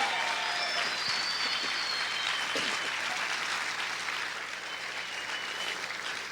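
Church congregation applauding during a Spanish-language sermon, a steady sustained wash of clapping from many hands that fills the room, fading slightly toward the end, with no speech over it.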